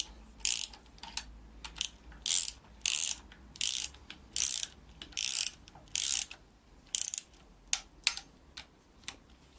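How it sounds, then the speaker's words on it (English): A ratchet tightens nuts on the engine of a BMW E39 325, about eight rapid clicking bursts in an even rhythm with short pauses between strokes, close and clear, no speech. "They are for tightening the nuts."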